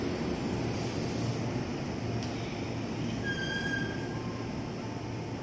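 A KRL commuter train runs along the Jatinegara line toward Manggarai, a steady rumbling roll of wheels on track with thin metallic squeals rising briefly near the end.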